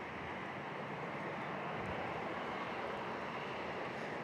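A jet airliner, likely a Boeing 737-700, passes on a low approach at San Diego International Airport with a steady, loud broadband roar that holds for several seconds, with no talk over it.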